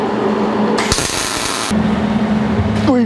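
A steering gearbox being tack welded to a new bracket on a 1949 Chevrolet gasser frame gives a loud, crackling burst of about one second, followed by shop noise and scraping.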